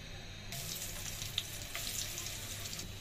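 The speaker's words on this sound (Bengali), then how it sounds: "এই যে অহনা তেলের মধ্যে কুদা কুদা করে ছাইরা দিম।" Masoor lentil fritter batter hits hot frying oil, setting off a sudden broad hiss that settles into a steady, close sizzle with a few small pops, and no speech.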